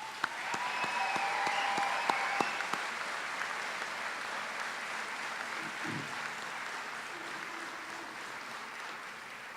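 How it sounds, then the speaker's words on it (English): A graduation audience at the Flagler College class of 2017 ceremony claps steadily for several seconds, a broad even wash of applause with a few sharper individual claps near the start. "I ask you, the graduates, the class of 2017, to join me in applauding and thanking those who have helped you get here today."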